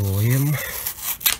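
A cardboard mailing envelope is opened with a short rasping, scraping rub of card, following a brief spoken voice at the start.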